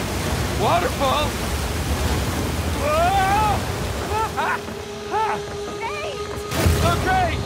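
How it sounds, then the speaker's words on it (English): Steady roaring rush of a waterfall in Uncharted 4, a dense broadband wash heard throughout while characters shout over it, with a sudden thump near the end. "Waterfall! Waterfall!"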